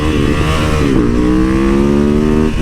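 Cruiser motorcycle engine revving hard up close, a loud throttle blip that dips and then climbs in a sustained rising drone, alone without talk.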